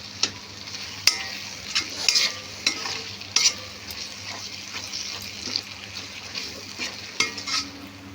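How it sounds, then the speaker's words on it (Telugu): Gongura curry fries in oil as a spoon stirs and scrapes the pan, a continuous nearby sizzle punctuated by sharp irregular clicks and scrapes of the utensil. "ఇంక ఇది బాగా కలిసేలాగా కలుపుకొని గోంగూర కూడా కొంచెం వేగితే చాలు"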